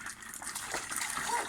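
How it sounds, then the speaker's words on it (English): Water from a homemade waterfall pours steadily into a paddling pond made from a hole lined with tarpaulin, a continuous close gush and splash, with faint voices in the background. "And there's our waterfall."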